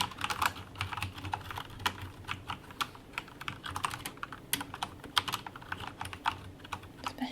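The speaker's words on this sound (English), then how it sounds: "I really have always thought the sound of keys typing was very relaxing." Rapid clacky keystrokes from a Corsair K70 Lux RGB mechanical keyboard patter continuously at close range, an uneven typing rhythm with no voices.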